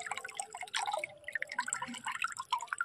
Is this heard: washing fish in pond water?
yes